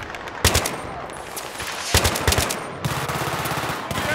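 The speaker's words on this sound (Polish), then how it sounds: "On ten gnój strzela." Battlefield 3 gunfire: several loud bursts of automatic fire in separate volleys, sharp cracks over a constant battlefield rumble, near and dense, with no talk.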